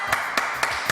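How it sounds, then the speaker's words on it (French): A few slow, separate hand claps for Sandrine, about four evenly spaced sharp slaps, close and fairly loud over a steady background hum. "on applaudit très très fort,"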